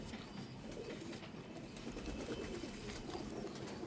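A pigeon coos softly from a breeding loft pair and their young, low murmuring calls repeating faintly under steady background hiss.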